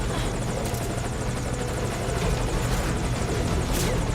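Helicopter in the video game Metal Gear Solid Ground Zeroes, a loud, steady rotor thump and engine roar held close throughout with no break.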